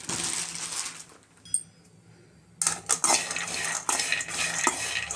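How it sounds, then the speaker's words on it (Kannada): Peanuts dry-roast in a pan over medium heat, stirred so they rattle and scrape against the metal, close and crisp, with a brief near-silent pause in the middle before the clattering resumes. "ಈ ಕಡಲೆ ಬೀಜ ಹುರ್ಕೊತೀನಿ."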